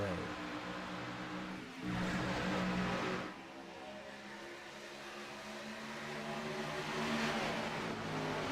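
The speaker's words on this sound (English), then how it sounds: "We roll all the gas and green flag flies once again here from Charlotte Motor Speedway." Stock cars roar away on a green-flag restart at Charlotte Motor Speedway in an Xfinity Series racing video game, a steady engine drone swelling into louder revving surges as the pack accelerates.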